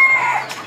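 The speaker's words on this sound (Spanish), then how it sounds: "Gallos acá." A brief, close burst of rooster clucking and a short crowing note rises from a crowded yard of fighting cocks in Mochitlán, loud and alone.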